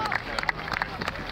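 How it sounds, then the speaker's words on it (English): Crowd applause ripples through an outdoor audience at a Ford Fair stunt show at Silverstone, with scattered clapping and cheering bursts mixed into a steady hubbub of voices. "Give a round of applause"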